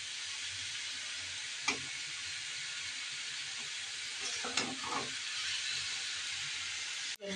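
Steamed cabbage with turmeric, salt and ginger-cumin paste sizzles steadily in a pan, with a few soft scrapes of stirring breaking through the hiss.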